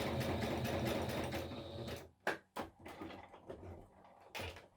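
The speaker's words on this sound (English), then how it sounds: "I do have to pay attention when I sew" Sewing machine stitching paper ephemera for a junk journal, a fast steady mechanical whir for about two seconds, then short bursts and clicks as the stitching stops and starts, close and moderately loud.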